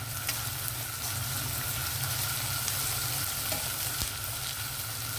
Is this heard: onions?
yes